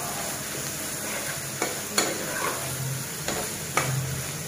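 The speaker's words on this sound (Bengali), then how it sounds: "এই পর্যায়ে আমি দিয়ে দিব সবগুলো আমার কলিজা, ছোট করে কেটে কলিজা সিদ্ধ করে নিয়েছি সেই কলিজাটা দিয়ে দিব।" Boiled chicken liver pieces sizzle steadily in spiced oil in a pan, with a few soft scraping knocks of a spoon stirring them, close and moderately quiet, no talk.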